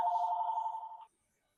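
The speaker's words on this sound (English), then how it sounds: "Phone call." A phone rings with an incoming call during a Samsung S22 Ultra screen replacement: a single steady electronic ring tone lasting about a second, fairly faint, then cut off into silence.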